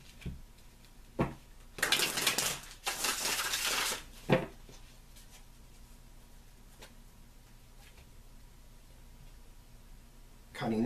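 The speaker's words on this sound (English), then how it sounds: "I'm feeling inclined to shuffle one more time" A deck of tarot cards gets shuffled in two quick riffle bursts, close and crisp, followed by soft taps and quiet handling against a hushed background.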